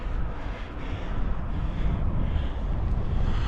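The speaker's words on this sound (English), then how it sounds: "Wind's picking up now as I gain height" Wind gusting across the microphone while climbing a long hill in England, a continuous low rumbling buffet that swells slightly and stays loud throughout with no voices.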